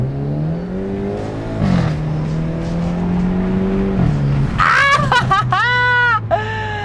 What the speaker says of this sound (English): let's take this thing for a rip. We're putting it in the fire mode.